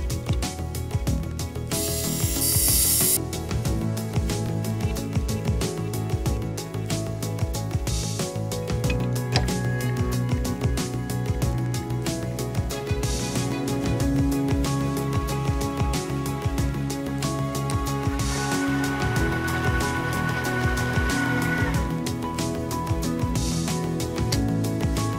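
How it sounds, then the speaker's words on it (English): Milling machine cutting small metal parts for a syringe engine in a home machine shop: a steady, continuous mechanical whir and grinding chatter with faint tonal whine, running alone without talk throughout. "then it's back over to the mill."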